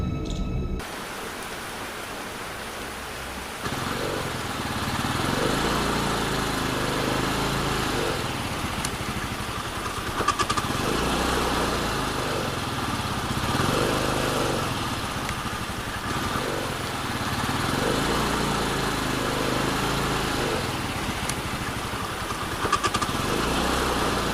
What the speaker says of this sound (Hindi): अपने स्कूटर पे बैठ के बाबा के घर पे जाने लगता है